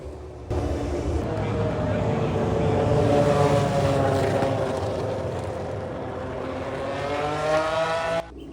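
A historic V10 racing car at the Monaco Historic Grand Prix, a loud, sustained high-pitched engine wail with shifting revs and rising and falling pitch as it passes, without voices.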